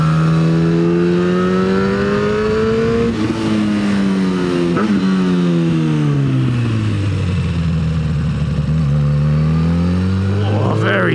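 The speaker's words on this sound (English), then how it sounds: "That was some very ham-fisted throttle work." Car engine under uneven throttle on the curvy L207 road, loud and close, its note climbing and dropping through gear changes with a rough rev near the end, with a voice talking over the engine at times.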